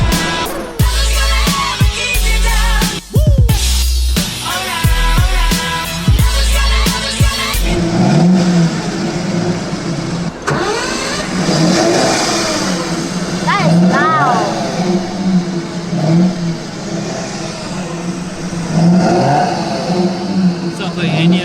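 A car engine revs and roars nearby on a street in Abu Dhabi, rising and falling over a busy outdoor scene with people talking throughout.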